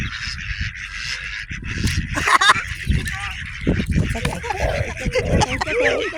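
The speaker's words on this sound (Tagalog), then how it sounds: "That's the duck." A wild duck being fed in New Zealand calls with repeated nasal honking quacks at close range, mixed with rustling and movement throughout.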